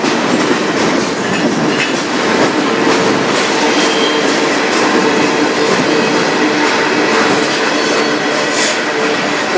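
A CN freight train rolls past on the Strathroy Subdivision in Sarnia, Ontario, loud and close, with continuous wheel rumble and clickety-clack and no break across the whole stretch.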